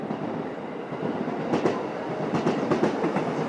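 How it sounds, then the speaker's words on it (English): A passing train clatters along with rhythmic clickety-clack of wheels over rail joints, a steady rumble growing slightly louder, heard from a moderate distance. "Now we just need a train. I can hear one coming."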